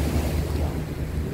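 Ocean surf rolls in and breaks into white foam, a constant loud wash of waves mixed with heavy wind buffeting the microphone.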